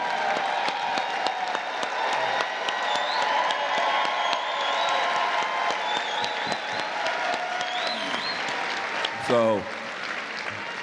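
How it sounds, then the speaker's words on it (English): Audience applause with some cheering and a whoop fills a ballroom event for Earvin "Magic" Johnson, steady and dense throughout, with a speaker's voice briefly over it near the end. "The applause should have been louder for him."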